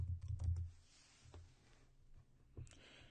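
A few quiet keystrokes click on a computer keyboard while a word is typed into a search bar, faint and close, in short uneven bursts.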